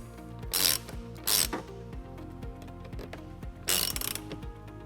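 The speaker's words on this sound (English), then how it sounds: "Then we'll tighten it up using a 10mm socket." A hand ratchet fitted with a 10mm socket clicks in short bursts while tightening bolts during a trailer wiring harness installation on a 2012 Dodge Nitro, three quick ratcheting runs separated by pauses, close and crisp.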